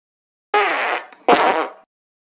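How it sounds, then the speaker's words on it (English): Two loud, buzzy cartoon fart blasts in an animated school classroom scene, each roughly half a second long and separated by a short gap, with no talk over them. "I'm going to fart at you."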